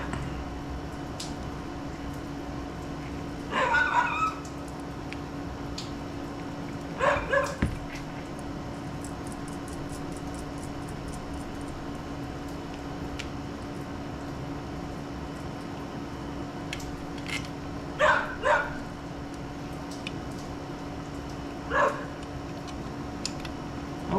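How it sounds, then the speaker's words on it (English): A dog barks outdoors in short bursts, a few sharp yips at about 4 and 7 seconds and again near 18 and 22, fairly distant over a steady background hum, with no talking. "Somebody's dog is running around out there."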